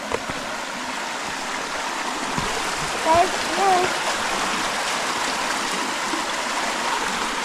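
Stream of flowing water in the České Švýcarsko forest, a steady broadband rush filling the whole stretch, with a child's and adult's brief voices and small splashy chirps over it.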